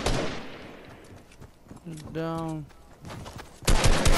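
Rapid bursts of gunfire from the video game Fortnite, with shots and impacts rattling through the game audio while players talk over the top.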